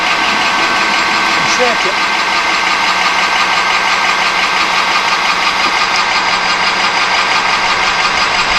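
A Harbor Freight-type bandsaw with a clamp pallet makes a small cut of about fifty thou, holding a loud, steady mechanical drone throughout while someone speaks briefly over it.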